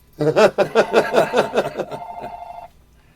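On a talk show, a telephone rings with a burst of rapid warbling trills, loud and close, and then holds a single steady tone before fading into quiet.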